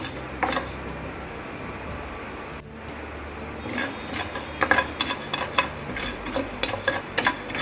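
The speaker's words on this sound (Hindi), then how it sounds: "और इसे हिलाते हुए हमें जब तक रोस्ट करना है, ड्राई रोस्ट" Pav bhaji masala spices dry-roasting in a pan, stirred steadily: a spoon scrapes and clinks against the metal in repeated strokes, quiet at first and then growing busier and more distinct, with no voices.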